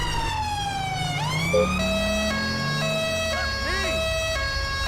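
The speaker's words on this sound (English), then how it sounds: "Put my siren on." A UK police BMW patrol car in GTA 5 runs its siren loud and close, a rising wail that shifts into a steady two-tone and then quick yelping sweeps.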